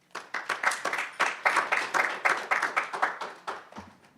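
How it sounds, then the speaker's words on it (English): A small audience at a finance conference claps to welcome a moderator to the stage, with distinct, fairly sparse claps in an uneven rhythm that fade out near the end. "Please welcome him with a big round of applause"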